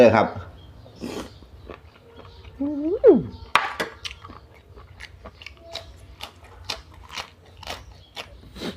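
Crunchy salad of pounded apple snails and river snails eaten with fresh vegetables, with repeated close biting and chewing crunches. A voice and a brief whistle-like tone are heard early on.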